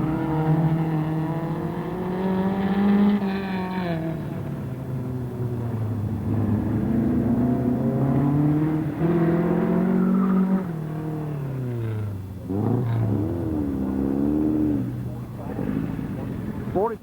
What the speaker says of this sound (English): That car's pretty quick, Greg.